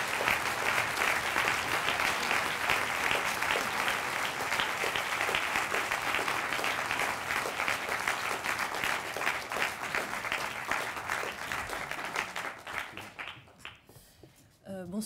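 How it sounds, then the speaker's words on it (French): Loud, sustained applause from an audience as someone is called up to a podium to receive an award, dense clapping that gradually tapers off, with a voice briefly speaking near the end. "Je vous demande de l'applaudir très fort"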